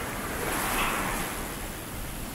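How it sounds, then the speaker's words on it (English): Ocean waves at Cabo San Lucas break and wash up the shore in a continuous roar of surf, with one swell building and then easing back. "right when you think the big waves are gonna come, the tide back out hits them and like slows it all down"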